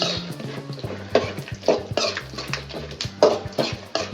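Peanuts frying in a pan for coconut rice, a close, steady sizzle broken by spoon scrapes and light clatter as they are stirred, with no one talking.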